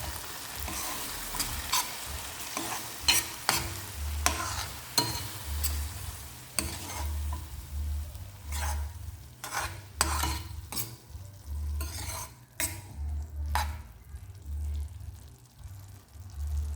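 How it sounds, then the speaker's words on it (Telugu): Curd is stirred into an okra curry in a pan, with a gentle sizzle beneath repeated clinks and scrapes of a spoon against metal in an uneven rhythm, close and quiet. "దీన్ని కూడా ఒకసారి కలుపుకుందాం."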